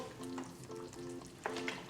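Oil heats and fries in a pan for pork saltimbocca, giving a steady, close sizzle with faint crackles and a low hum running underneath.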